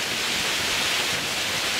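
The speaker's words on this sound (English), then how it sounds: "And it turned into a little creek and then I saw little waterfalls." Small waterfalls on a canyon creek pour in a steady, close hiss of rushing water, unbroken and even for the whole short stretch.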